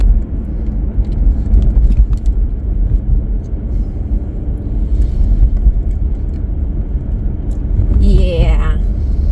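A car drives down a narrow English country back road, its steady broadband road and engine rumble filling the cabin throughout, with a rising whistle-like tone near the end.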